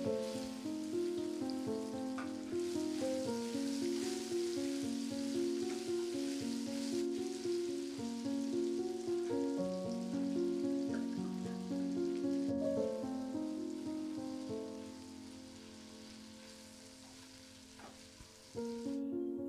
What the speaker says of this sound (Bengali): এবার আমলকিটা তেলের মধ্যে নিয়ে কিছুক্ষণ নাড়াচাড়া করে নিতে হবে।